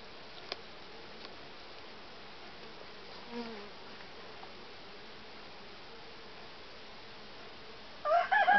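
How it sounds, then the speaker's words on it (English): Bees buzz faintly around a hive while foraging in pineapple weed outdoors, a soft steady hum with a few brief louder passes and a rooster crowing at the very end. "I'm very close to this hive, and they really don't seem in the least bit bothered about me being here. They're just in and out foraging."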